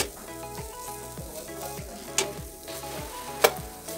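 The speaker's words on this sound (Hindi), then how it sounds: "हल्की आंच में भूनना है, ज्यादा तेज आंच में मावा जल सकता है।" Mawa (khoya) roasting slowly in a pan over low heat for gujiya filling: a continuous soft sizzle with regular scraping stirs about every half second and a couple of sharp metallic clinks, close and fairly quiet, no talking.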